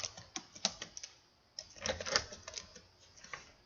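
A password is typed on a computer keyboard while signing in to Google: a few close, light key clicks in two short irregular bursts, separated by a brief pause, with no talking.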